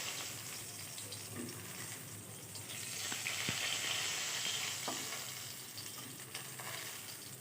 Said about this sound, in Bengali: এখন আমি কড়াইতে যে তেলটা আছে তার মধ্যে আমি পাঁচ ফোড়ন দিয়ে দিলাম